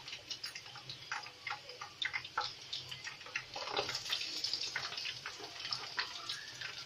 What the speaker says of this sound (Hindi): ये कढ़ाई में हमने ऑयल गरम कर लिया है। अब हम ये अपने चीज़ रोल डालेंगे।